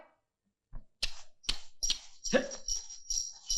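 A dog barks several times in short sharp bursts at moderate distance, repeated at roughly half-second intervals within a lively staged Marathi folk performance setting.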